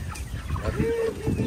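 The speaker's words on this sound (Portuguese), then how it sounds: "olha só as galinhas aí, tudo grande" Large chickens on a rural farm property cluck in a brief, close burst, one drawn-out cluck rising over low background noise and faint voices.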